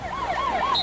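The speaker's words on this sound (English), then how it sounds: "the siren sounds at the end of the first half" A wailing siren marks the end of the first half at a 1997 high school football game between New Trier and Highland Park, its pitch rising and falling in quick repeated sweeps, loud and close, with no talk.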